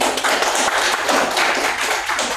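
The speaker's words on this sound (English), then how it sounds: "May I have a big round of applause for him?" Loud, dense applause from a college event audience welcoming a guest speaker, an entrepreneur in robotics, at an institute gathering in Bhubaneswar; steady rapid clapping fills the whole stretch without voices.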